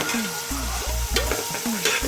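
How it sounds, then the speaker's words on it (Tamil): Onions sautéing in a pot with a steady sizzle of frying while a utensil stirs and scrapes repeatedly, close and fairly loud, with faint tonal squeaks from the stirring. "வெங்காயம் போட்டு வதக்கிட்டே இருக்காங்க"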